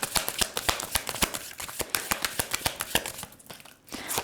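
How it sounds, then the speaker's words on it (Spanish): Tarot cards being shuffled in rapid riffling bursts, close and crisp, a steady run of flicking slaps with a short pause near the end. "Vamos a barajar para que puedas elegir."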